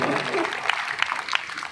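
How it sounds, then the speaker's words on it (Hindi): A burst of clapping from a crowd at a Shree Shyam devotional jagran in Sisana, heard under a voice speaking over it. "एक बार इनके लिए भी जोरदार तालियां।"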